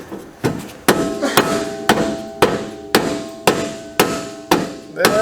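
Repeated hammer strikes pound on a part of a 2021 Polaris Ranger during a portal lift install, about ten sharp metallic blows at a steady, slightly uneven rhythm, loud and close with no talking.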